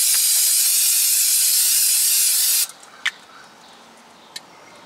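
Aerosol brake cleaner sprays in a loud, steady hiss onto the caliper bracket of a 2015 Honda Civic for about two and a half seconds, then cuts off abruptly, leaving a quiet space with a couple of faint clicks.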